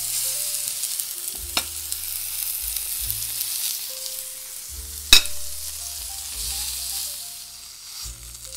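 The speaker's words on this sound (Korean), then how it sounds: "자, 이거 마저 굽겠습니다. 타지 않게 올리브를 좀 더 치겠습니다." Eggplant grills in a pan with olive oil, giving a steady close sizzle with occasional sharp spatter pops and low clunks as the pieces are moved about, with no talking.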